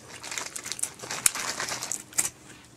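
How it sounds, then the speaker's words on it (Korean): Scotch tape pulled from its roll without tearing off, giving close, crackly crinkling bursts in quick irregular snaps with a couple of sharper pops. "지금 스카치 테이프가 이게 안 뜯어져."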